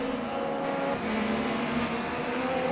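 A race car in a sim racing game, a Mercedes-AMG in an eRacing competition, drones steadily at high revs with a continuous loud engine tone and tyre noise, heard alone without talk.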